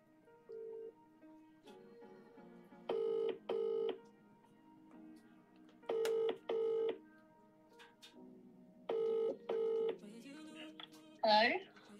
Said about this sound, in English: Let's see if we can see if she's going to answer the phone to us